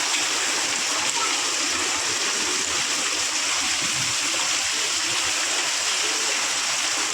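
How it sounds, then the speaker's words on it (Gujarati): Heavy monsoon-style rain pours down in a dense, continuous hiss with splashing water, steady and loud throughout, with a voice faintly under it. "આ વરસાદ તો ચોમાસામાં ના આવતો"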